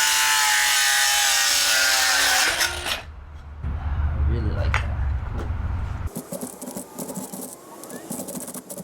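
A saw cutting through pieces of pallet wood for a mountain-bike jump ramp, with a loud continuous rasping cut that stops abruptly, then quieter scraping, handling noises and rustling close by.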